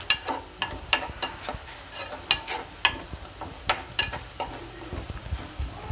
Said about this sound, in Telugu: ఉల్లిపాయ ఎర్రగా వేగిపోయినాయండి